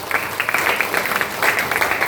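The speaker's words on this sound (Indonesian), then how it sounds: "Tepuk tangan dulu untuk kita semua hari ini" Steady applause from an audience at an Indonesian parenting talk, a dense, continuous wash of many hands clapping at moderate distance throughout, with no voices standing out.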